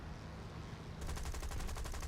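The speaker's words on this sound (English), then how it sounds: "I'm out of cannon, so I'm just shooting machine guns at him" Rapid aircraft machine gun fire in War Thunder from a British Beaufighter or D.520 in a dogfight, a loud dense burst of shots that kicks in about halfway through over steady engine drone.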